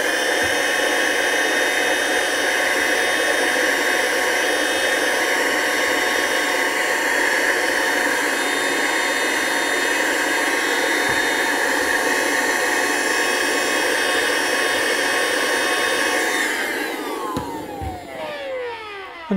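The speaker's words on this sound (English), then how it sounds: "the ballast that it sucks up is in the vacuum cleaner, ready for reuse" A vacuum cleaner runs steadily and loudly at close range as it sucks up loose ballast on a model railway, its constant whine holding for most of the stretch before winding down and cutting off.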